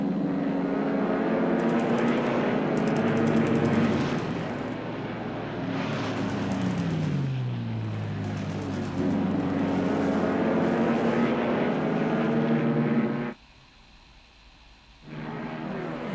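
Aircraft engines drone continuously through air combat in the War in the Pacific game, a steady propeller hum with pitch slides as planes maneuver, then a brief dip to near quiet before the drone returns.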